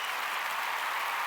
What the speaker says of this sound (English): Let me get the claps in there.